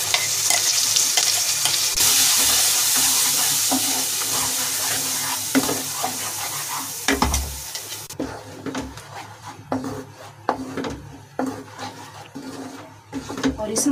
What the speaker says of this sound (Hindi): और इस मसाले को मैं थोड़ा सा भून दूंगी।